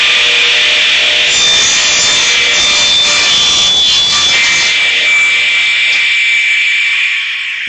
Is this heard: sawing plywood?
yes